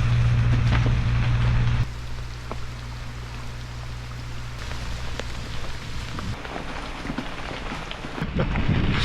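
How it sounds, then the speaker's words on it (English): Heavy rain pours down steadily on a remote Alaskan road, making a loud, dense hiss that drops slightly in level after the first couple of seconds and carries on without a break. "it's pouring rain"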